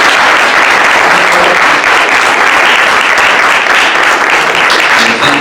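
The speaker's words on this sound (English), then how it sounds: "If we could just give them another round of applause" Sustained, dense applause from an audience fills the room after a science symposium panel discussion, steady and loud throughout with no pauses.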